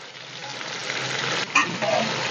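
Onion pieces dropped into a hot pan for chicken yakhni, a short steady sizzle with a brief clink or stir near the end, close and moderately loud.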